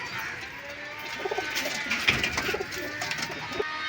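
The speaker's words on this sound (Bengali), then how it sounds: "মাদি পায়রা এই যে ছাড়া হলো" Domestic pigeons of the Giribaz breed coo softly in repeated low pulses close by, mixed with light bird calls, with no talking.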